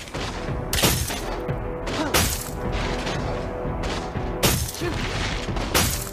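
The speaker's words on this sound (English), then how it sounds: "Your team destroyed a turret!" Destruction sounds from a MOBA-style video game, with turrets being knocked down amid battle: repeated loud bursts and crashing impacts at regular intervals over dense in-game effects and music.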